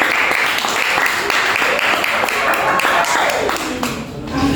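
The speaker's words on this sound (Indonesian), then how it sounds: "Tepuk tangan" Classroom applause from a group of students, a loose patter of hands clapping together that fades slightly at the end as a voice begins to rise under it.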